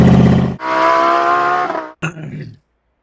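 A Scania Torpedo T-cab truck engine in a video game drones and revs in short sustained bursts, loud and close, cutting off abruptly after a couple of seconds.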